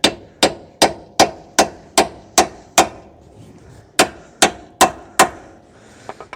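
Heavy metal-on-metal hammer blows strike the lower ball joint on a 2011 Subaru Outback 2.5, a steady rhythmic series of about a dozen sharp, loud hits with a brief pause midway, no speech.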